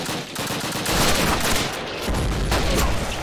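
Sustained gunfire from the video game Call of Duty (2003), a dense, continuous rattle of automatic weapons and shots running without a break, loud and alone.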